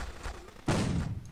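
Shotgun blast in the blocky shooter game Guncraft, a single loud, sudden burst rising over quieter game noise and fading quickly.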